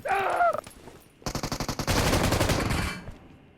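Automatic rifle gunfire in the mobile battle royale game PUBG Mobile, with a voice briefly at the start followed by a loud rapid burst of shots and then a sustained dense volley that cuts off abruptly.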